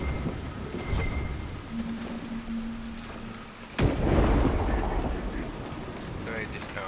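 Rain and thunder with lightning in Dragon Age Inquisition, a continuous patter of rain with a sharp nearby thunderclap partway through that rolls into a loud sustained rumble before fading back to rainfall.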